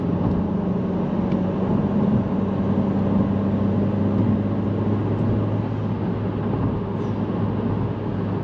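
A 2025 Honda Civic Si with mods and upgrades, driving, heard from inside the cabin as a steady, droning engine hum under road noise, continuous and fairly loud throughout.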